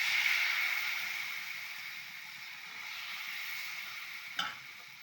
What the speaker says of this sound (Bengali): আর এই যে বেশি করে ভাজিচ্ছি, অনেক আছে তোমাদের জন্য